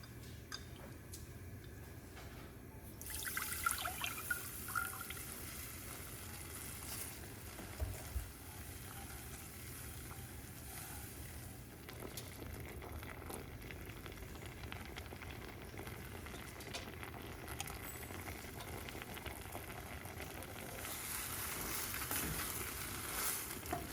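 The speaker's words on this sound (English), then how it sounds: "add my sauce that I made, and add the beef and vegetables back into it" A homemade sauce with beef and vegetables hits a hot pot on a stovetop, giving a soft, steady sizzle and bubbling that runs through alone at low level, with faint stirring clicks.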